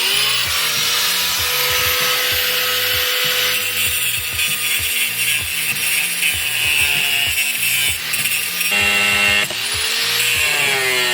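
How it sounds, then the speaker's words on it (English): An angle grinder with a cutting wheel works on rusty metal, giving a loud continuous high whine with rhythmic grinding pulses as it bites, close up and without talk. "I'm gonna dress this up with a cutting wheel first, flappy wheel second"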